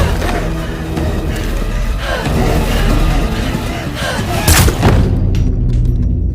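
A loud, chaotic scene from the 2025 film Drop: heavy booms and sharp gunshot cracks over a dense rumble, with one strong blast near the end before it cuts away.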